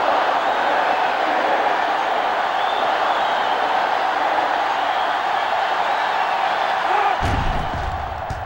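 Simulated stadium crowd in NCAA Football 07 during a 47-yard field goal attempt, a steady loud roar of massed voices that holds throughout and tails off with a thud near the end.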